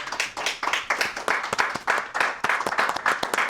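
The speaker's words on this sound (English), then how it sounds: "Yes, clap for yourself" A comedy club audience claps and cheers for two comedians taking the stage, dense and lively applause with a continuous patter of many hands up close, swelling and dipping throughout.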